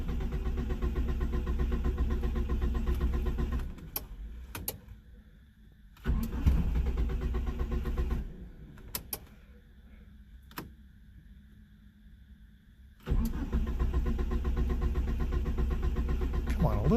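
A one-cylinder engine with a suspected bad fuel pump cranks in bursts without catching: loud churning cranking, pauses with faint clicks, then cranking again, no voices.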